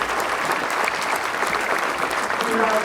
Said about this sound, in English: you can all please give a big round of applause for everybody coming out tonight